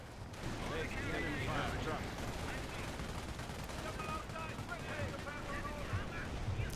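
A mortar unit fires in Company of Heroes during a World War II battle around Market Garden. Dense, continuous gunfire and heavy artillery thuds overlap in a loud, sustained barrage.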